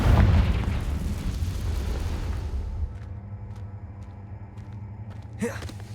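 A Confringo blasting spell from Hogwarts Legacy bursts with a loud, close boom at the start and then decays into a long rumbling tail, with a smaller crackling pop near the end.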